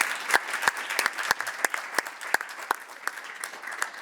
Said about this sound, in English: we'll just have to applaud in absentia for Susan